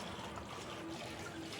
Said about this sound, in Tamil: தண்ணி இன்னும் வந்துடுச்சு